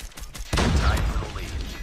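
Pistol fire in the mobile shooter Call of Duty Mobile, Hardpoint mode on the Shipment map: a single sharp shot bursts out after a quiet moment, followed by a dense wash of game noise.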